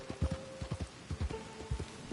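Horse hooves clip-clop at a steady trotting rhythm in the rain-soaked world of the video game Red Dead Online, with about a dozen close, fairly loud thuds falling in uneven pairs.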